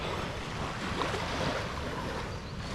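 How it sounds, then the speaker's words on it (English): Ocean waves stirred up by a large passing ship wash onto the shore of a tiny island, a dense, continuous rushing surge with wind noise and no voices. "One of these massive ships has passed by, causing loads of waves"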